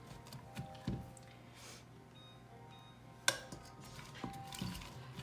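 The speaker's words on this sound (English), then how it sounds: "we're gonna stir it quite a bit because we don't want it to burn" A spoon scrapes and clinks against a pan as onion is stirred, quiet scattered taps and knocks with one sharper clank, no voices.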